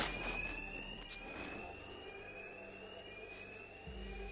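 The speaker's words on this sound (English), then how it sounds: "Two-Face's thugs won't hear me over the alarm." A bank alarm rings steadily in the Batman Arkham Knight video game, a sustained high electronic tone held over a low rumbling background for the whole stretch.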